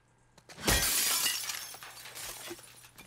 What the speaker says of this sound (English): It's so satisfying breaking the glass.